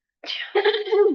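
A single sneeze bursts out close by, a sharp breathy onset followed by a voiced, tapering release, loud and alone in an otherwise quiet room.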